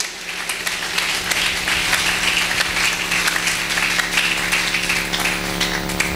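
A church congregation claps in praise, producing a steady, full wash of applause that holds at an even level for several seconds with no break.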